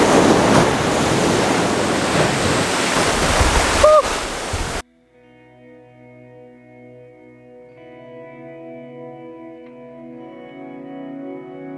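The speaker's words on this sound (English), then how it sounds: "That wave was a bit too big" A big ocean wave crashes onto the shore in a loud, broad roar of surf and spray, close by, for about five seconds, then cuts off.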